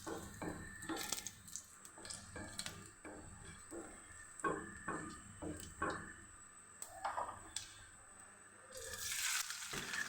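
Cumin seeds and dried chilies tempering in hot oil in a home kitchen, giving a crackling, popping sizzle with scattered sharp ticks and a steady hiss that swells louder near the end.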